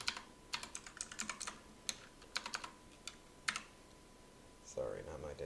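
Irregular bursts of keystrokes on a computer keyboard, quick clusters of faint clicks with short pauses between, heard close in a quiet room before a voice begins speaking at the end.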